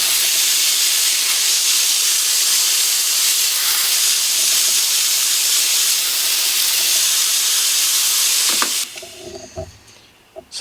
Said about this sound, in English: For those of you that are interested in the steam pressure on the machine